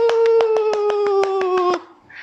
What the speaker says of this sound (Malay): Tepukan untuk Alifah